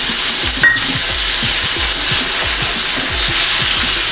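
Tomato is added to reddish fried onions for a mushroom bhaji gravy, giving a loud, close, constant sizzle and hiss with soft regular stirring taps underneath.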